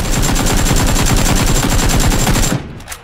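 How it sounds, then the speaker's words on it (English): Rapid automatic gunfire from the video game PUBG, a dense continuous burst of loud shots for about two and a half seconds that stops abruptly, followed by a couple of faint trailing sounds. "We're about to shoot."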